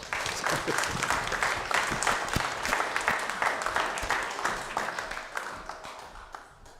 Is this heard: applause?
yes